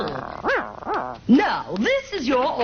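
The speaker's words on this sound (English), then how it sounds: "that's just my dog, Freckle." A pet dog named Freckle barks and yips in a few sharp, separate bursts, then growls and whimpers in between, close and loud, while a person speaks over the noise.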